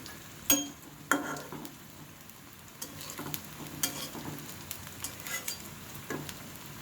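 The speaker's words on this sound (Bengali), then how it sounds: "বেশি সময় ধরে ভাজতে হবে তাহলে ক্রিস্পি হবে" Potato and pointed gourd pakoras fry in hot oil, giving a steady, close sizzle. Occasional sharp clinks of a utensil against the pan cut through.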